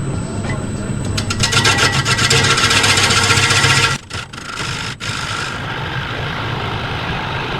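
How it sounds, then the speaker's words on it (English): A square carbide cutter scrapes a wooden bowl on a lathe with loud, continuous rasping, then cuts off abruptly into quieter intermittent scraping. "that was my square carbide cutter"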